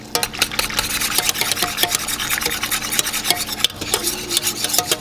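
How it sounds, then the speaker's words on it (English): A whisk beats a homemade sugar syrup for hoshaf in a bowl, giving a fast, continuous scraping and swishing with an even rhythm throughout, close and fairly loud. "Now I'm whisking this."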